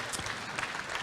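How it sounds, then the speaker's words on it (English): Church audience at a mission fair applauds missionaries, a short, soft patter of many hands clapping heard from a distance at low level. "Would you give our missionaries just a round of applause?"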